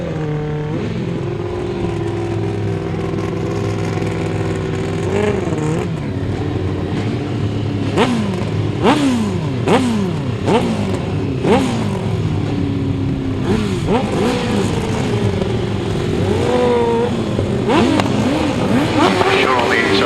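Sidecar outfits race around a grasstrack, their engines droning and revving continuously with rising and falling pitch as machines accelerate and pass, the roar loud and steady throughout, with a commentator talking over it.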